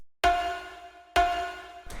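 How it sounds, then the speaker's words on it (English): Two bright metallic FM synth bell notes strike about a second apart, each ringing with a clear tone and fading, followed by a brief softer hit. "kind of like bell sound you can hear"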